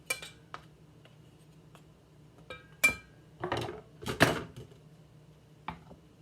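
A spoon knocks and scrapes against a pan as chicken filling for moo shu chicken is pushed off it, giving a handful of sharp, close metallic clinks and taps with quiet gaps between them.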